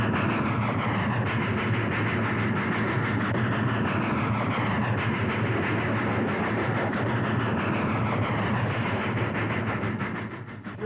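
A train rolls past on the rails with a dense, continuous roar and rumble that holds steady at close range before easing off at the very end.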